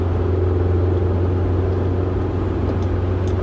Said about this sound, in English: Downshift for torque going uphill.